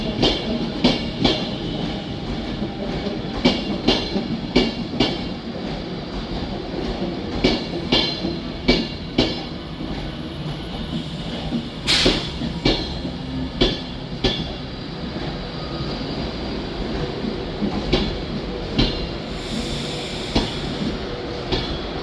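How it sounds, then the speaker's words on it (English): Class 390 Pendolino 390126 on a London Euston to Glasgow Central service passes through Carlisle with a steady rolling rumble and a regular clatter of wheels over rail joints, loud and close throughout. "390126 with one Sierra 52, one S52 from London Euston to Glasgow Central."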